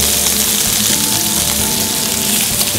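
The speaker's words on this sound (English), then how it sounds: "Nice hot pan. I'll start with my scallops in. Get a nice sear on those." Scallops searing in a very hot pan in a restaurant kitchen, a loud, continuous close sizzle and crackle of fat with no pauses.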